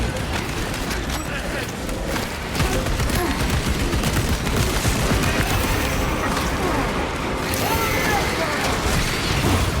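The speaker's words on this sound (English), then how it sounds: "Changing magazine. Deploying frag grenade." Gunfire and a frag grenade in Space Marine 2, a continuous loud roar of rapid shots and crashing impacts with a heavier burst partway through, and a voice speaking over the din.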